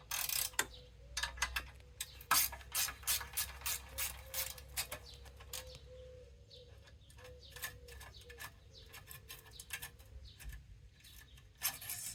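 Wrench clicking and ratcheting while loosening the exhaust bolts on a QJMOTOR SRT 700X motorcycle, with close, repeated sharp metallic ticks in uneven bursts and brief pauses between them.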